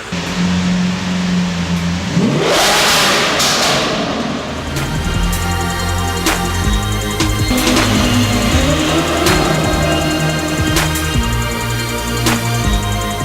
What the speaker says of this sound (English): Time for a rev, Veneno style.